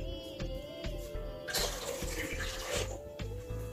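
A cup of water pours into a pot for making tea, a continuous splashing gush up close with a louder burst midway, under a steady background hum.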